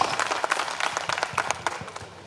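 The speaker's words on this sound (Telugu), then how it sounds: "అందరూ కూడా క్లాప్స్." A small group clapping at a class reunion, quick irregular claps in a short burst, moderately close and fairly quiet.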